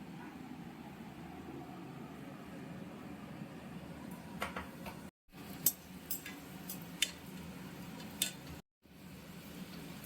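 Luchi frying one by one in hot oil, a steady low sizzle with occasional sharp clinks and taps of a utensil against the pan, fairly quiet, with two brief cuts to silence.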